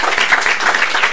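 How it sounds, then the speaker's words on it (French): An audience applauds at a storytelling talk, brisk close clapping from a room full of people in a short continuous burst. "Vous pouvez l'applaudir"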